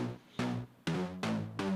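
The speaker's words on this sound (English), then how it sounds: "This is like a synth bass that has more of like a distorted attack." Synth bass with a distorted, gritty attack on each note, four or five punchy low hits in a short funky rhythm, each decaying quickly, playing alone and up close.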